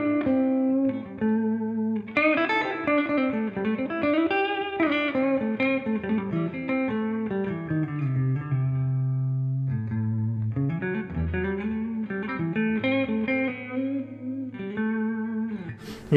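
An electric guitar plays a melodic passage of single notes and chords through a Bugera V22 Infinium valve amp, with a clean, slightly driven tone. It rings out close and alone, with no talk.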